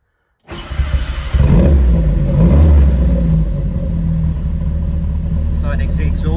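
After a moment of silence, a 1965 Lancia Fulvia 2C Berlina race car cranks and fires up, then settles into a loud, rough, throbbing idle close by.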